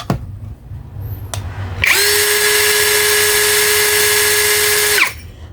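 A 21V cordless drill spins up at its low speed setting 2, around 1300 RPM, giving a loud, steady motor whine that holds for about three seconds and then cuts off abruptly.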